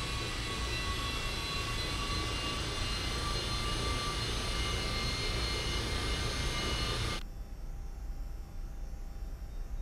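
Cessna Citation II jet engines in the initial climb, simulated in X-Plane 11, make a loud, continuous whine and roar that drops abruptly in level near the end.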